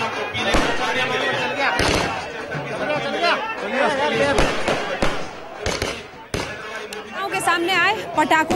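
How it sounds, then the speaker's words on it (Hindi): Firecrackers burst in sharp, loud cracks through a noisy outdoor BJP counting-day celebration, scattered irregularly over steady crowd chatter and shouting. "पटाखों की धूम आपको सुनाई दे रही होगी"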